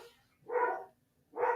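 Two single dog barks, fairly soft and nearby, each short and separated by about a second of quiet.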